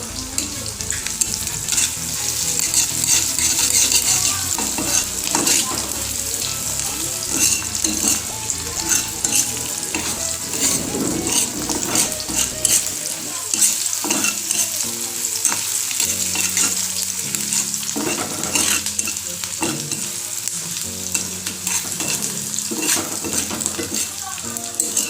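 Half-fried onions with chillies and gram flour sizzle steadily in a pan while a utensil stirs and scrapes through them, the frying hiss continuous throughout.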